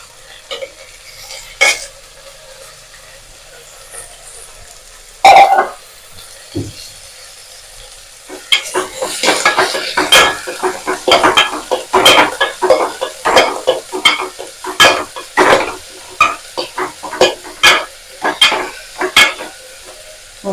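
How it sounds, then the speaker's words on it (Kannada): Dill leaves are tossed into hot oil for a sambar tempering, bringing a quiet opening that turns into a loud burst of sizzling. Repeated sharp scraping and clanking of a utensil against the pan continue through the second half, with no talking. "ಸಬ್ಬಸ್ಗೆ ಸೊಪ್ಪನ್ನೆಲ್ಲ ಇದಕ್ಕೆ ಒಗ್ಗರಣೆಗೆ ಆಡ್ ಮಾಡ್ತಿದ್ದೀನಿ. ಇದೊಂದು ಸ್ವಲ್ಪ ಎಣ್ಣೆಲಿ ಫ್ರೈ ಆಗ್ಲಿ ಅಂತ ಅಷ್ಟೇ."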